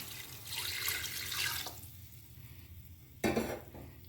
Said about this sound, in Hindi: इस पे मैं पानी ऐड कर रही हूँ।